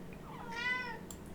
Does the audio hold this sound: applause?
no